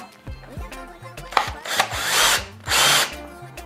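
A Ryobi power drill drives screws to fasten a housing cover in place, with short stuttering bursts and clicks followed by two louder, sustained whirring pulls up close.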